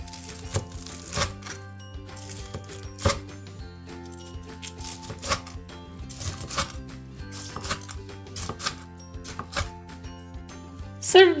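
A knife slicing crispy breaded tonkatsu pork cutlets into strips on a board, giving crunchy cuts in an irregular series of crackling strokes, close up and clear with soft background music.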